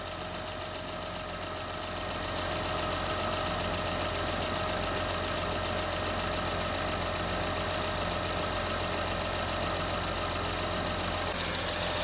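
A 2007 Acura MDX engine idles while warming up, a steady, even hum with a light mechanical rattle, unbroken for the whole stretch and fairly quiet, with no voices.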